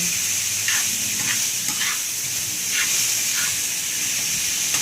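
Fish sautéing with garlic and onion in a hot pan gives a steady, close sizzle and hiss throughout, with soft scrapes of stirring rising and falling over the frying.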